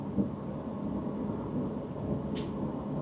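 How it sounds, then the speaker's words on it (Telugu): Steady heavy rain falls throughout, with a low thunder-like rumble beneath it and a brief bright hiss near the end; no one speaks. "వర్షం మాత్రం హెవీగా పడుతుంది"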